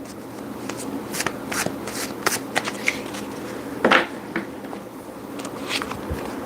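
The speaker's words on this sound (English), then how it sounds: "I started shuffling on Amy." Tarot cards riffle and slap in quick bursts, close and crisp, with brief pauses between shuffles.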